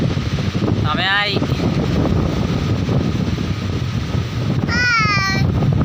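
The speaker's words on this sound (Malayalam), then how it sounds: "കാറ്റ് ഇവിടെ ഭയങ്കര കാറ്റ്" Strong wind roars steadily and loudly across an exposed rock outdoors, a constant broadband rush throughout, with a voice speaking briefly twice over it.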